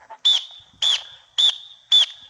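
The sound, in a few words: referee whistle blowing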